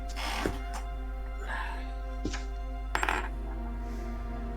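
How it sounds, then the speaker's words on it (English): Dice rolling across a table during a tabletop roleplaying session, a few sharp clattering bursts spread over several seconds beneath steady background hum. "Oh, rolls are being made. I hear rolling dice."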